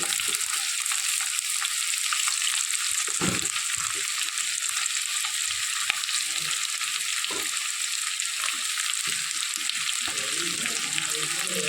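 Onions, curry leaves and drumstick pieces sauté in hot oil for a prawn theeyal, giving a steady close sizzle with occasional scraping stirs and faint background voices.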